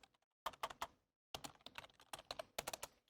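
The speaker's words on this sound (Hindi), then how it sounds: "उसके बाद लेट्स स्टार्ट टाइपिंग" Keys on a computer keyboard clatter in quick, irregular bursts of close, crisp clicks while a blog post is typed, with short pauses between words and no talking.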